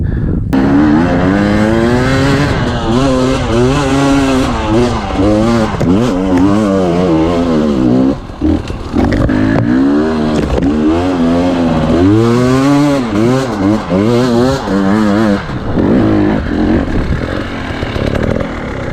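A 2019 KTM 250 EXC TPI two-stroke dirt bike rides off-road, its loud, close engine screaming and bouncing through constant revving and throttle changes, with no talk.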